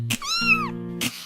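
One clear, drawn-out cat meow rises and falls, close and alone, set between short soft thumps from a children's song backing.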